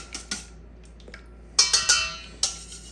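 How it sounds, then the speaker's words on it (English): Wet ingredients for apple fritters whisked in a bowl, heard as a few scattered light clinks and scrapes of a whisk against the bowl, with a quick burst of taps toward the end. "let's whisk all of our wet ingredients together until everything is brought together"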